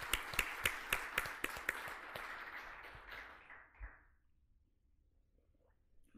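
A conference audience applauding their sponsors, a few sharp claps at first that swell into a brief burst of applause and fade out within about four seconds, with no talking.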